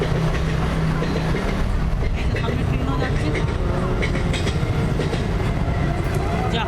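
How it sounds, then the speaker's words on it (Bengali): A train rumbles past the Magra railway level crossing steadily and loudly, with rhythmic clattering wheels over the tracks and a low roar filling the whole stretch. "ট্রেন"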